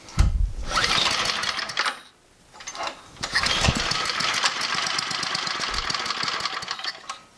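An old, abandoned MTD snowblower engine pulled by recoil start, sputtering to life and running roughly, cutting out briefly around two seconds before catching again and running steadily; close and loud, no talking.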